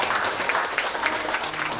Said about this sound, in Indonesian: Tepuk tangan untuk pihaknya.